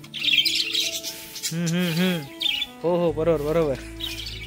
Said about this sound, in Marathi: हे चिवचिव करतात कसे बघा, यांची बडबड चालू आहे.